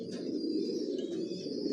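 A young racing pigeon, a Janssen long-distance breed, coos softly in a low, steady, continuous murmur close to the microphone, with no voices present.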